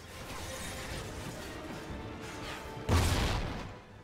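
A sudden muffled grenade blast in the video game Call of Duty: Ghosts cuts through steady low background noise, then dies away over about a second.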